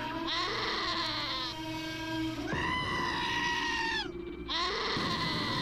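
Several video game goats bleat loudly in long, wavering cries, one call overlapping another with barely a pause, under a constant low background hum.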